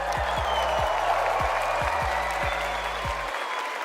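Live crowd at the Fortnite World Cup Duo Finals cheering and applauding steadily throughout, a dense wash of clapping and shouts, with low rhythmic thumps from the arena sound system underneath.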